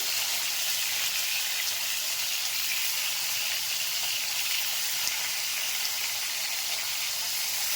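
Hilsa fish frying lightly in a pan, a steady broadband sizzle with fine crackling that holds even and unbroken throughout, close and moderately loud with no talk over it.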